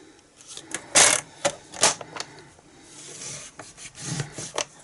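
A paper trimmer scores cardstock for a Christmas gift box, making short, dry rasping strokes, a few louder scrapes among softer rubbing sounds, close up with no talk.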